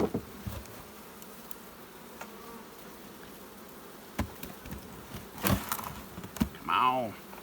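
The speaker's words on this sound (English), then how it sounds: "there's a big pile of bees right here" A large cluster of honey bees hums and buzzes steadily at close range while a beekeeper splits a hive, with brief knocks and some voice near the end.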